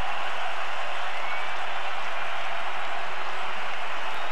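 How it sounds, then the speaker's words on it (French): Stadium crowd at a CONCACAF Champions League quarter-final soccer match giving an ovation to returning player Eduardo Sebrango in Montreal, a steady, unbroken roar of distant clapping and crowd noise that holds evenly throughout. "Et écoutez l'applaudissement pour Sebrango. Quelle ovation!"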